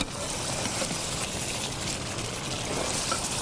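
A steady, continuous pouring of water into a potato and chicken curry, a dense hiss running unbroken from start to finish, fairly close.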